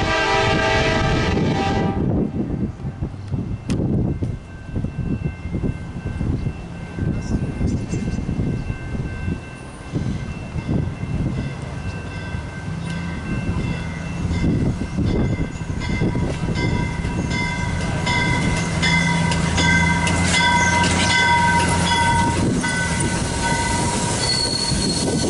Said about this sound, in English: here comes Cascade Train 513.